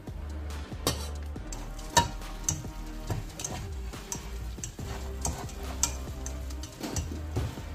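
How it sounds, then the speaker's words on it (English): Butter melts in a pan as flour is stirred in for a white sauce, with a soft continuous sizzle under repeated spoon scrapes and taps against the pan, close and moderately quiet. "we're going to melt some butter and then we're going to start adding the flour bit by bit"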